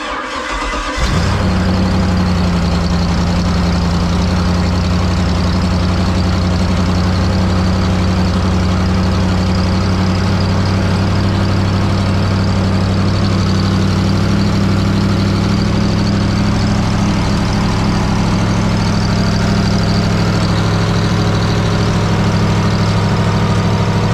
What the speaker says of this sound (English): Idling really fast.